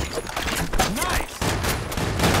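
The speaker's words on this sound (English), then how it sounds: "Hey, someone shooting." Rapid bursts of gunfire in the online shooter Blackshot, loud continuous rattling shots packed tightly together.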